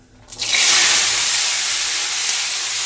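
Carrot, capsicum, beans, potato and peas hit a hot pan and start frying, a sudden loud sizzle that settles into a steady, bright hiss.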